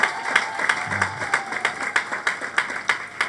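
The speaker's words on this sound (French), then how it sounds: "Applaudissez pour nous." A church congregation clapping in a steady rhythmic beat during a worship service, the claps evenly spaced and fairly loud throughout.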